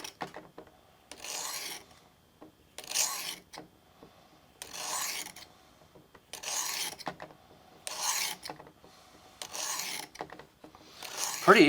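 A knife blade is drawn in repeated strokes across a Work Sharp Tri-Brasive bench stone at a 25-degree bevel, giving about seven rasping passes with short pauses between them, close and fairly quiet, with no talking.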